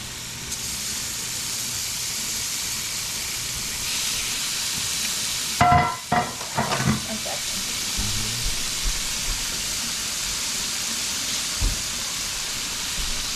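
Salmon fillet laid skin-side down into a hot pan, alongside mushrooms: a steady, loud sizzling hiss throughout, with a brief cluster of clattering knocks near the middle.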